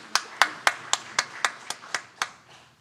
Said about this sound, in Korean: 우리 축복의 박수 하도록 하겠습니다.